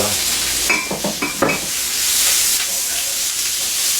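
Vegetables sizzle and hiss in olive oil in a hot pan for a cheesesteak filling, with a few scraping stirs of a utensil early on and a steady loud frying hiss throughout.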